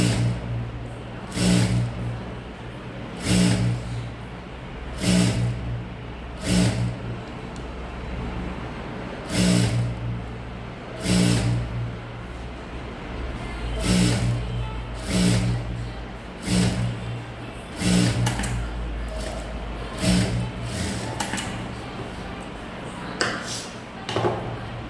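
A sewing machine stitching a blouse runs in short, repeated bursts, each a loud buzzing whir that stops and starts again at a fairly regular pace.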